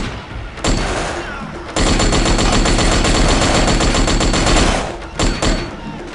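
Sustained, loud machine gun fire in the Delta Force: Black Hawk Down video game, with near-continuous rapid bursts lasting several seconds and a brief pause near the start.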